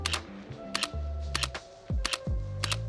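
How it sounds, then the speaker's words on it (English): A Sony A7C mirrorless camera fires its shutter several times, sharp loud clicks in quick pairs and bursts, close up against a quiet background with faint low handling thumps. "the sound of the shutter is actually pretty nice. It's actually loud."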